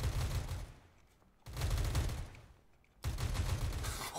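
Gunfire at a shooting range in the video game CS:GO comes in three loud bursts of rapid shots, each separated by a brief quieter gap as the firing pauses.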